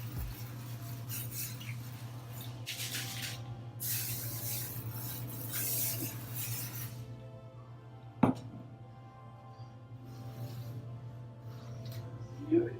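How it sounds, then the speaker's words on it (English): Several bursts of Paul Mitchell extra body finishing hairspray hiss close by, one after another, over a low steady hum, followed by a sharp click and quieter rustling. "the last thing that I usually do is use this extra body finishing spray"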